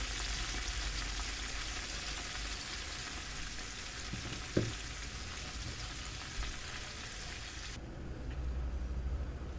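Steady sizzling and crackling of onions and tomato paste frying in a hot pan, continuous and fairly quiet, with a faint clink partway through.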